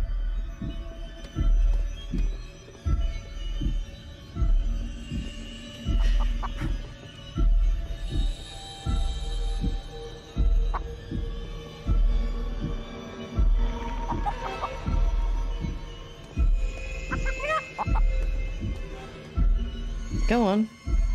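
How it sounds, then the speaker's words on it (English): Giant chicken in the horror stealth survival game Chicken Feet, giving repeated rhythmic low thumping clucks with occasional higher squawks, loud and steady through the stretch while a person talks over it. "Bloody chicken."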